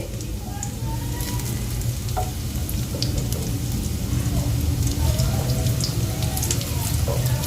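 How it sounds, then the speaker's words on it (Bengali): Oats tikki fry in oil in a pan, giving a steady, close sizzle and crackle that runs the whole time, with faint clinks as the patties are turned. "খুব ভালোভাবে উল্টে পাল্টে দুটো সাইড ভেজে নিতে হবে"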